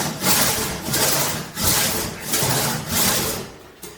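A large antique British-made crosscut saw cutting through wood in a cramped workshop, rhythmic rasping push-and-pull strokes, about six evenly spaced passes, loud and close.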